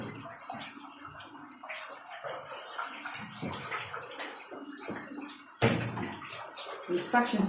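Tap water runs into a kitchen sink while a pot is washed, with uneven splashing and dripping and a louder burst near the end, and someone speaks over it.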